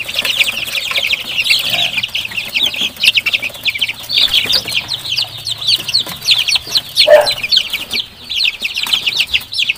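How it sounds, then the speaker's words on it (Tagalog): Free-range Basilan native chickens, about a month old, cluck and chatter continuously in a rural yard, overlapping calls of varied loudness with a brief wing flutter. "ito po yung basilan na breed ng native chicken nila"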